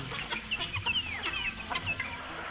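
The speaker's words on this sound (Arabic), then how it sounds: "شايفين دي كده فراخ فيومي" Fayoumi chickens clucking and chirping close by, a busy overlapping flock with short repeated calls and some higher squawks over a steady background hum.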